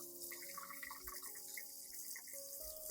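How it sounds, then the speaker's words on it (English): Water runs from a tap in a steady faint stream, rinsing a plant and its roots, splashing softly, with quiet background music playing along. "After that, rinse the plant under clean running water."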